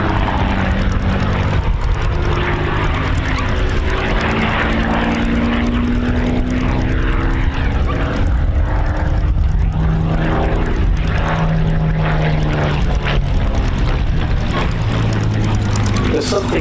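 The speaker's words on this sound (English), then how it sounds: "This is the Kent Spitfire. Rolling off there, top of the loop into a half Cuban manoeuvre." The Kent Spitfire, a Supermarine propeller warplane, flies aerobatic loops and half Cuban eights at an English country airshow, its piston engine droning loudly and continuously with rising and falling pitch as it climbs and dives.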